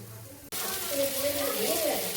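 Food frying in Amul butter on a hot tawa hisses and sizzles, a sudden steady crackling that starts after a brief quiet moment and continues close and loud, with a faint voice in the background.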